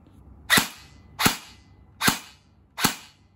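Airsoft electric gun fired on semi-auto with a regular battery: four sharp, evenly spaced shots about three-quarters of a second apart, each a quick snappy crack, loud and close with no talk.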